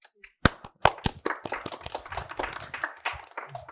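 Audience applause at a panel discussion on the global order: scattered, uneven hand claps building from a few isolated claps into a thin, irregular patter, fairly close.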